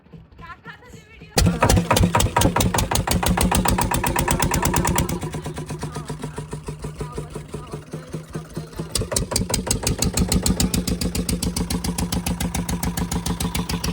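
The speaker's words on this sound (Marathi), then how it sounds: "सो छोटी बोट आलेली आहे आम्हाला घ्यायला" A small motor boat's engine chugs in a fast, regular putter at close range, loud and steady with slight shifts in pitch and level as the boat comes in to pick up passengers.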